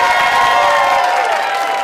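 Studio audience cheering and applauding for a guest on a television talk show, a loud, dense roar of clapping and whoops that stays steady and close, then eases slightly at the end.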